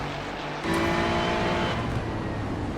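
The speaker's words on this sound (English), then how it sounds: "Yeah, race cars passed Goldstriker just like that." A GT3 race car in a racing video game at the Charlotte Roval sweeps past with a steady, loud engine roar that swells and holds, no voices over it.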